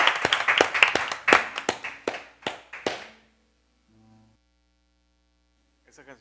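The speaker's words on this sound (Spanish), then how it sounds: "Un aplauso para Rodrigo Valdés," Sparse, uneven claps from a small audience for Rodrigo Valdés, "el zorro," on a music program, a few sharp hand claps over about three seconds, then near silence with a faint low hum.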